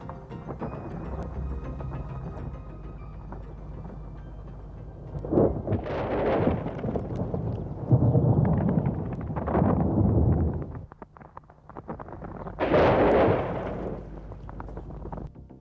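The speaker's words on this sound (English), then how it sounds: "The moment is right and the rocket is fired." A rocket launched to trigger lightning on a test launch pad during trials of active lightning rods, heard as several loud rumbling, roaring blasts over a steady background, the strongest bursts arriving near the middle and again toward the end.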